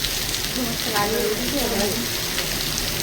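Rain falling outdoors during the monsoon season, a dense, steady hiss and patter, with a voice talking partway through.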